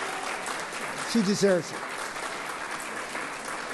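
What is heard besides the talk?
audience applause at exhibition opening ceremony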